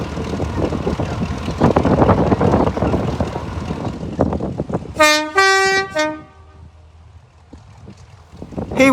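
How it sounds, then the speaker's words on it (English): The Class 35 Hymek D7017 diesel locomotive pulls out of Bishop's Lydeard on the West Somerset Railway at a diesel festival. A rumbling engine and wheel noise build, then a loud two-tone horn blast sounds before the scene quiets. "Here is Class 35 High-Mech D7017 leaving Bishop's Lydeard heading towards Norton Fitzwarren."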